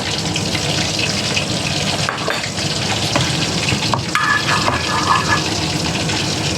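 Cooking oil being added to a heated wok for pork with okra makes a loud, continuous hiss and crackle, with a brief pouring splash partway through.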